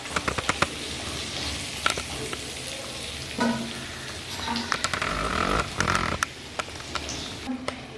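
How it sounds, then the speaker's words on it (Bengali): Pointed gourd (potol) frying in oil over a low flame, a continuous soft sizzle broken by sharp clicks and scraping stirs, close by and without speech. "এবার ফ্লেম লোতে রেখে পটলগুলো প্রথমে আমি ভেজে নিচ্ছি"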